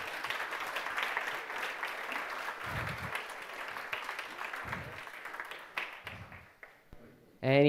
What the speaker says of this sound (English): I think we should go another round of applause.